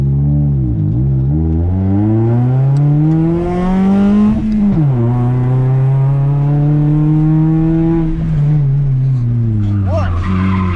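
A 2009 Toyota Yaris revs hard around a parking lot, its engine note climbing loud and close, dropping sharply at a gear change, then pulling up again with a faint edge of tire squeal.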